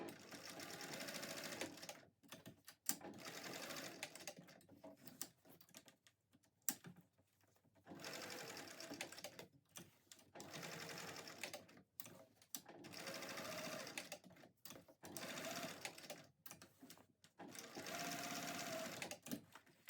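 Up close, a sewing machine sews a tote bag strap onto its backer with a box-and-X pattern, whirring in repeated short runs broken by brief pauses as the fabric is turned.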